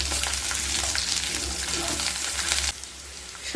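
Cut potatoes sizzling in hot oil as they are stirred, for kundri posto, a steady broadband hiss throughout that drops off toward the end.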